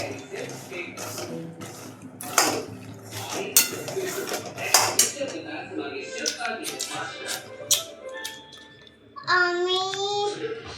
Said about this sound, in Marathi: इथं कढईमध्ये शेंगदाणे भाजायला घेतले.